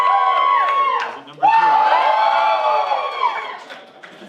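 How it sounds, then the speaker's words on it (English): Lively live comedy-show audience cheering and whooping to cast a vote, a close, loud swell of many voices that dips briefly before surging again, with a host speaking over the start. "Get ready to vote for the person you want off by cheering."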